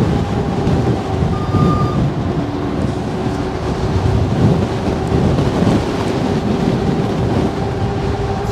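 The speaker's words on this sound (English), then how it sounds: "Yeah, there's a lot of wind right now." Strong wind roars continuously while driving fast, a loud, dense, low rumbling buffet that never lets up across the whole stretch, with no talking.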